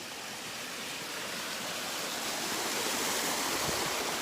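Small mountain waterfall on the Tour du Mont Blanc in Switzerland, a loud, close, continuous broadband rush of falling water that steadily fills the clip with no other sounds.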